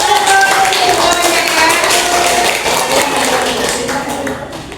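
A crowd claps steadily in a dense, sustained burst of applause that fades slightly toward the end.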